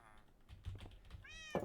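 A cat in Minecraft gives a short, clear meow near the end, preceded by faint soft game sounds.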